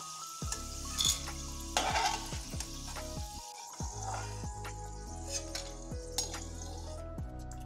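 Dal lentils frying in oil for poha chivda namkeen sizzle steadily, with repeated scraping stirs and clinks of a utensil against the pan, close and fairly quiet, with no talking.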